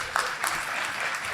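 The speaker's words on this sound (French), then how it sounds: "Une bonne main d'applaudissements pour LCN" A brief burst of audience applause at a cabaret show, a dense wash of clapping that swells and fades slightly over barely a second and a half.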